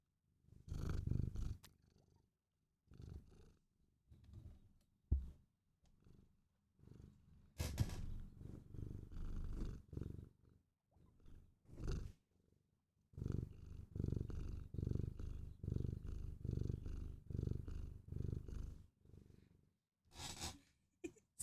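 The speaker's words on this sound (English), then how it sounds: "Some purrs from my Nimbus." Nimbus, a house cat, purrs close to the microphone in long, rumbling stretches broken by short pauses, each rise and fall following her breathing.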